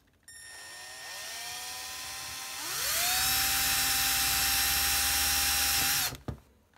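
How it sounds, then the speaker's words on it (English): A power drill with a 1/16 drill bit whirs up to speed in two stages and runs steadily at a high whine as it bores a hole, then stops abruptly. "you can finally get your power drill and your 1/16 drill bit"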